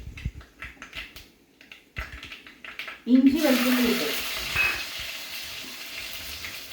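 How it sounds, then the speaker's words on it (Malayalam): Mustard seeds spluttering and frying in hot oil in a pan while a Kerala-style dry coconut fish peera is being cooked. A sudden bright sizzle bursts in partway through and then settles into steady crackling, with a person talking over it. "അപ്പം കടുക് പൊട്ടി കേട്ടോ"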